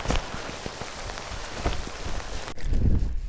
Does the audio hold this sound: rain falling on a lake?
yes